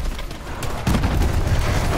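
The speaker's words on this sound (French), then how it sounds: "On ne peut pas s'approcher de ces explosions" Explosions and gunfire in Call of Duty: Advanced Warfare, loud, close booms and crackling shots in a dense barrage that swells sharply partway through.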